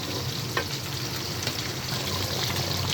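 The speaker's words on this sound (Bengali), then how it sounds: "মশলাটা কষানো হতে থাকে।" Spice paste sautéing in a pan for bhuna khichuri, a steady close sizzle and frying crackle with faint stirring scrapes throughout, no talking.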